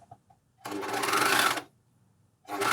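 Juki MCS1500 coverstitch machine sewing elastic onto knickers at a 3.5 stitch length, one steady motor whir of about a second, then a pause, then stitching starts again at the end.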